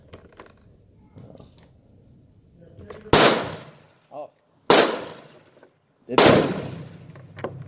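Three loud, sharp gunshots from a Taurus 85 .38 Special revolver at a shooting range, firing a heavier load, spaced about a second and a half apart with decaying tails, one short spoken exclamation before them.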